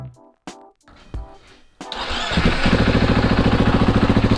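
Supermoto motorcycle fitted with an FMF Factory 4.1 RCT exhaust, without the dB killer: a few sputtering cranks and clicks, then the engine catches and settles into a loud, close, choppy idle with a rapid steady pulse.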